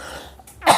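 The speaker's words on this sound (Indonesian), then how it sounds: "saya batuk belum sembuh-sembuh" One short, close cough with a throaty rasp, preceded by a faint breathy throat sound.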